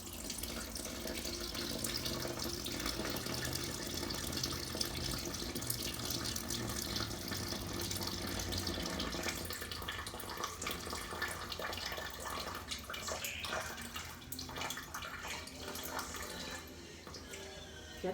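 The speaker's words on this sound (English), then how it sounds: "So I just run the warm tap." Warm water runs steadily from a kitchen tap into a container for sourdough, a continuous close rushing flow that lasts throughout with small shifts in pitch and no speech.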